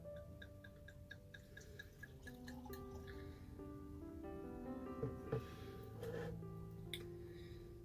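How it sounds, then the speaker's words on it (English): Robert Mondavi bourbon barrel-aged Cabernet Sauvignon is poured into a glass up close, a quiet liquid trickle with glassy tonal ringing and small clinks, swelling toward the end. "Let's go ahead and pour it into our glass and see what we get out of it."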